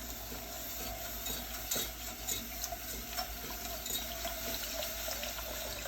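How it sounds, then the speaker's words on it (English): Milk is poured and stirred into a flour roux for a bechamel, giving a steady soft liquid wash with faint whisking and scraping against the pan, quiet and continuous with no talking. "I can start adding the milk now."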